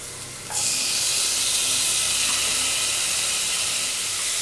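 Ginger garlic paste and tomato hitting hot oil in a pan for an elephant yam kuzhambu, bursting into a loud, steady sizzle and hiss after a brief quieter moment, close and alone.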